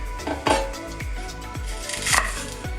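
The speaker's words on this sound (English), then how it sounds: "I'm going to take the ends off and just chop it up a little bit" A knife chops garlic on a board, sharp, close impacts arriving in an uneven rhythm of about six cuts with light clatter between, no talking.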